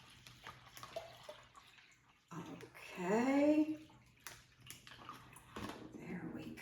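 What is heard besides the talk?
water poured into a plastic bag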